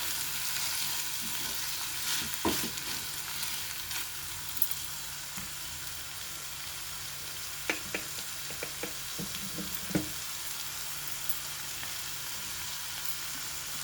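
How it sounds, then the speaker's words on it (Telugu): Onion and green chillies fry in a pan with a faint, steady sizzle, broken by a few soft clicks of a spoon stirring, with no voices. "ఉల్లిపాయ, పచ్చిమిర్చి వేసాను."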